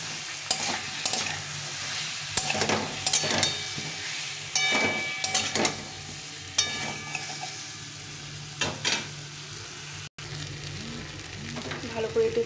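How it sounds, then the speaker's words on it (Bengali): Potato and taro pieces are sautéed in a cooked spice masala, a low steady sizzle punctuated by frequent rhythmic scrapes and knocks of a spoon stirring the pan, heard close with no speech. "এখন আমি আলু আর কচুটা দিয়ে দেব। আমি একটু ভালো করে কষিয়ে নেব।"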